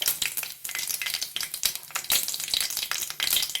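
Red chilies and garlic sizzle in hot mustard oil with a steady, crackling fry that pops and spits throughout. Some stirring is also audible, close and fairly loud, with no talk.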